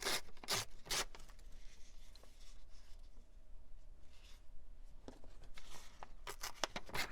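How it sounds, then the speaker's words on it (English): Paper torn by hand for a journal page, a few sharp ripping bursts near the start and again toward the end, with quieter rustling between, close and no talking. "Let's rip a piece."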